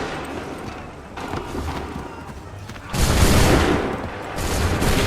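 Musket volleys crackle across a battlefield in Assassin's Creed 3 at Lexington and Concord, building from scattered shots into a loud, dense burst of massed fire over a rumbling background, with shouted commands among the troops.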